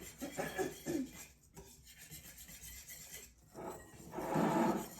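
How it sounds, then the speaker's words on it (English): Hershey's cocoa powder being whisked into melted butter in a bowl for double chocolate chip cookies, a close, quiet gritty scraping and stirring in irregular bursts, with no voices. "Now I'm going to add 3/4 cup of Hershey's chocolate cocoa. Here we go. And we're going to whisk it together."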